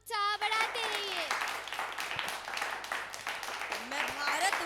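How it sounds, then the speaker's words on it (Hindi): Audience applause at a school annual function, broad and sustained across the whole stretch, mixed with whistle-like tones and voices over a hall sound system. "please जोरदार तालियों से हमारी सिस्टर्स का उत्साह बढ़ाते रहिए"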